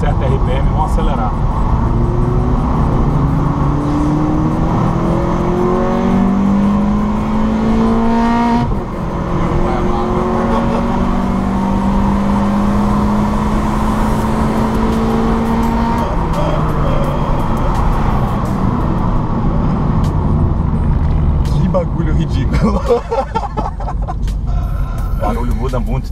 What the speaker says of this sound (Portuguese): vamos baixar os vidros aqui pro barulho característico do filtro dos Hondas